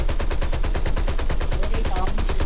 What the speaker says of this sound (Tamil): ஏய் லெஃப்ட்ல ஃபயர் சவுண்ட்.